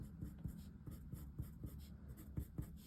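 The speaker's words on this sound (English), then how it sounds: "Drag our pencil across," A pencil scratches lines across paper in short rhythmic strokes, a soft dry scraping repeated steadily and heard close up, with no talking.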